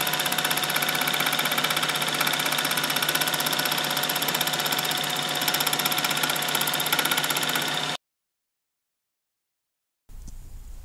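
A left-handed turning tool used as a fly cutter mills metal, making a steady, loud, high machining whine with a tonal hum. It cuts off abruptly into silence, and a fainter noise returns near the end.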